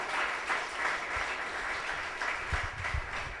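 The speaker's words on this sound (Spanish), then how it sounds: "Le damos un aplauso al Señor" A church congregation claps for the Lord during a sermon, a steady wash of applause from many hands with a few louder nearby claps standing out, no voices over it.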